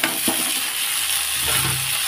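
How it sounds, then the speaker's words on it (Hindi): Leafy saag greens tossed onto fried onions in hot oil give a loud, steady sizzle, with a few scraping stirs close by and no talking. "देखिए, हमारे प्याज एकदम भून गया है। अब हम इसमें ना जो साग है उसको हम डाल देंगे।"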